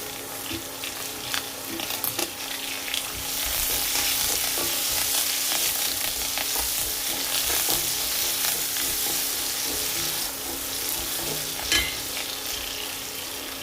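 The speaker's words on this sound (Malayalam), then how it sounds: "ഇഞ്ചിയും പച്ചമുളകും ചേർക്കാം." Ginger and green chilies fry in hot oil for a spicy dried shrimp pickle, sizzling loudly and continuously while a utensil stirs and scrapes through the pan.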